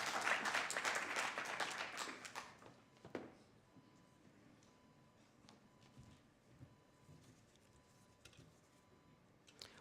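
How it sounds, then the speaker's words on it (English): Audience applause for a university debater at an International Migrants Day debate, a burst of moderately distant clapping that dies away within about three seconds, leaving faint scattered taps and room noise. "Let's give them a round of applause."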